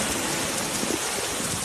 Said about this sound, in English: Cell phone video shows intense rain coming down in Westchester Friday morning